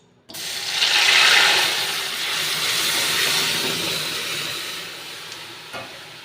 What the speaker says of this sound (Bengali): ফোড়নটা হয়ে গেছে, ডালটাকে এবার আমি দিয়ে দেবো।